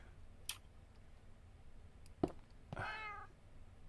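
A cat meows once in a video game, a short rising-falling call after a couple of faint clicks and taps, heard alone over low background hum.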